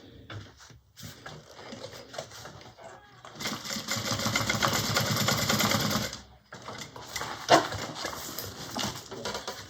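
A sewing machine bastes a compartment tab onto a bag: short bursts of rapid stitching, then a sustained loud three-second run, then a few more brief stitches, all close up with no talk.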